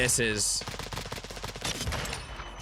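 Hip-fire gunshots from a submachine gun in the Warzone video game, a dense, rapid burst of sharp repeated shots running loudly through the whole moment.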